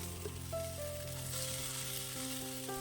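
Sliced onion, green chillies and curry leaves stirred in a hot pan for a raw banana stir-fry, a quiet steady sizzle with light stirring, and no voices.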